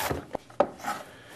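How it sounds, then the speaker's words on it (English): A knife works through fresh celery on a wooden board: a handful of uneven, close chopping and scraping strokes over about a second and a half, with no voices. "for chopping it up fine, we do the same thing"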